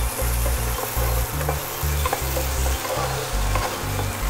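Onions and tomatoes with a little salt cook in a pan on a tawa, giving a steady loud sizzle with repeated rhythmic stirring scrapes running through it.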